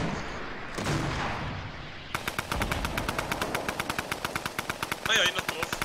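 Rapid automatic gunfire in a Fortnite match, starting after a short muffled blast and then firing as a fast, even string of loud shots for several seconds, with a brief voice rising over the shooting near the end.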